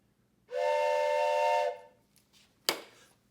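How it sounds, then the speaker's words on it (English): One breathy blast from an antique four-hole toy train whistle lasts about a second, its four notes sounding together and beating into a throbbing chord. A sharp click follows shortly after. "it has 4 holes. It's 4 different notes being sounded at the same time."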